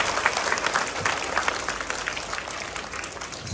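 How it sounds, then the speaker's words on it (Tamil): A school audience at a Tamil poetry awards event claps for its Tamil teachers, a dense, steady wash of many hands applauding together for several seconds with no voices above it. "அவர்களுக்கு சிறந்த கைத்தட்டு கொடுங்கள்."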